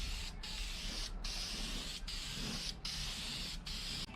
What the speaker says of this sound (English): I'm gonna go ahead and give it its first coat of purple